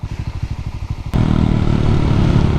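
Honda Monkey 125 motorcycle being ridden on rural roads: a low, pulsing idle-like engine beat shifts abruptly into a loud, steady, close engine drone with wind rush.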